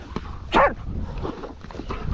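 A dog gives a single loud, close bark at a burrow during a hunting outing, with rustling and faint movement around it.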